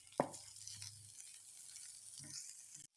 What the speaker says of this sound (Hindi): इन्हें हमने रोस्ट कर लिया है तकरीबन 1 मिनट तक।